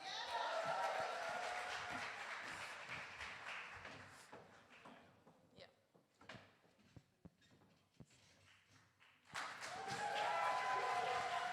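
An audience applauds at a live Birmingham Black History Month launch event. Soft clapping at the start gives way to a lull with scattered thumps and taps, then the applause swells again.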